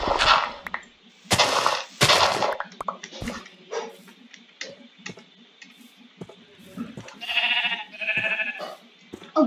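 Sheep bleating in Minecraft Java Edition, several short game bleats mixed with clicks and swipe effects, moderately loud, while a player talks over them.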